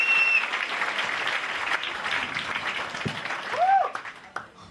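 Audience at a stand-up comedy show applauding and cheering with whoops, a dense steady wash of clapping that swells briefly near the end before tailing off, with voices mixed into the crowd.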